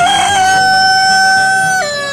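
A rooster crows loud and close in one drawn-out call at the Galiff Street bird market in Kolkata, its voice falling in pitch at the end.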